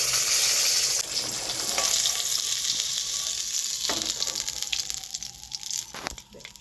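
Fish frying in hot oil for a Bengali fish kalia, a loud, close, continuous sizzle that fades slightly toward the end, with a few light clinks of a utensil.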